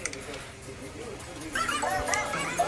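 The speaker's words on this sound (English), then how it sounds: "It's just a dog barking, but somebody edited it to make it sound like famous ringtones." A dog's barks cut and pitched into melodies of well-known phone ringtones, with short yelping notes in a bouncy tune that grows louder partway through.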